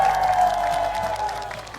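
A TV game-show audience in Majalaya applauds the contestants, dense sustained clapping and crowd noise with a faint held musical tone underneath.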